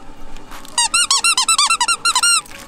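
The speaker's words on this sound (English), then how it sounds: "Oh, did it squeak?" Squeaky rubber lobster dog toy squeezed in a quick run of about a dozen sharp, high-pitched squeaks, close and clear after a brief pause.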